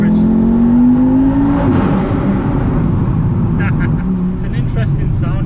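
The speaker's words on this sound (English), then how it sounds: "It's basically got that deeper iron block noise to it, which you normally expect from this engine." A VW Golf R MK6 fitted with a 2.5L five-cylinder Audi RS3 engine, heard from inside while driving: a loud, deep engine drone that rises in pitch then settles, with someone talking over it.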